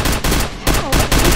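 Gunshots fired in a video game, several loud broadband bursts in quick succession with brief gaps between them, filling the whole clip with no talking.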